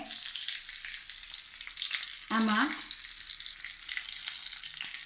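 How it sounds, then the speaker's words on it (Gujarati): Red chilli tempering for khandvi sizzles steadily in hot oil with mustard seeds and carom seeds, a bright continuous crackle throughout, with one short spoken word near the middle. "હવે આપણે એમાં વઘાર કરીએ છીએ. ઉપર લાલ મરચાંનો વઘાર કર્યો છે"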